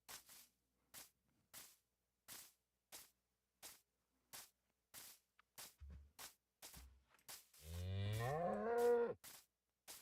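A cow in Minecraft moos once, long and wavering, near the end, after a string of regular sharp clicks or taps, with a couple of low thumps in between and no talking.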